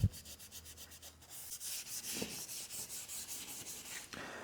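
A Scotch-Brite pad scrubs steadily over a vintage aluminum motorcycle engine coated in WD-40, a continuous close rasping rub with quick back-and-forth strokes and no voices.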